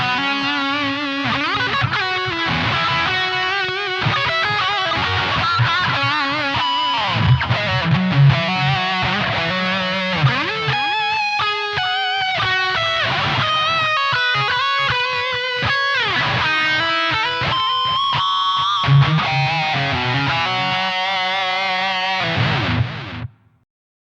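An electric guitar through a Blackstar ID 30 TVP combo amp plays a distorted lead line with reverb and delay, notes ringing and overlapping for over twenty seconds before cutting off.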